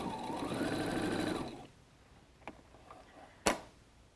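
Sewing machine running steadily as it stitches and backstitches the end of a seam on a messenger bag, a continuous whirring hum for about a second and a half, then stopping, followed by a couple of sharp clicks.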